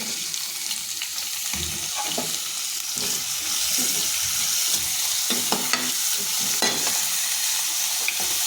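Onions fry in a pan with cumin seeds, a loud, steady hiss and crackle throughout, with intermittent scraping and stirring knocks against the pan.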